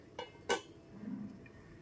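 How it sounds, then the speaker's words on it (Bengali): A lid lifted off a pan of cooking raw mango chutney: two quick faint metallic clinks, the second sharper, followed by a soft low rustle, in a quiet kitchen. "এবার ঢাকনাটা খুলে দেখে নিচ্ছি"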